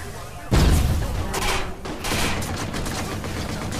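Gunfire in the Watch Dogs video game opens with a heavy booming burst, followed by a sustained dense rattle of rapid shots and smaller impacts, loud and close throughout.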